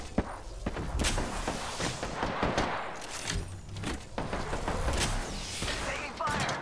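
Gunfire in Apex Legends, scattered shots and short bursts cracking over several seconds with thumps and impacts, fairly close, amid busy game noise and some voices.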